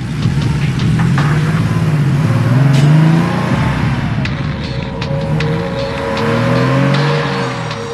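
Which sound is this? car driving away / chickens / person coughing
car driving away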